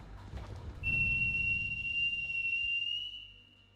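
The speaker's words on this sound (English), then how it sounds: "Suddenly the howling stopped after a loud whistling sound." A loud whistle in a story video game, sounding as a single sustained high tone that holds steady for about two seconds and then fades, over a low rumbling background.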